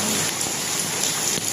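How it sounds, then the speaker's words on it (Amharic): Heavy rain falling in Dubai, a dense, steady hiss of water pouring down without a break, loud and close, with no voices. "ዛሬ ኃይለኛ ዝናብ የዘነበ ነው ማለት ነው።"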